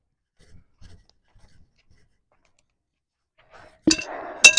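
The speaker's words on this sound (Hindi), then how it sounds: "कुकर के अंदर मैंने डाल दिए चने सारे" Dried chickpeas pour into a pressure cooker in a village kitchen, a sudden close rattling clatter lasting under a second after near silence, with a sharp clink right at the end.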